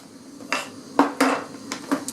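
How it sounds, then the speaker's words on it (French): A spoon stirs freeze-dried ration powder inside a pot, giving about six sharp metallic clinks and taps at an irregular pace, close and clear over a quiet background. "Je vais mélanger déjà l'espèce de poudre."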